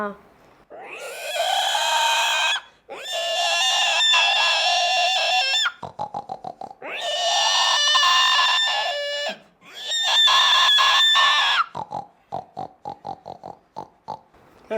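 A voice mimics pigs in a loud, close performance, alternating long squealing grunts with bursts of rapid rhythmic snorts that have short pauses between them.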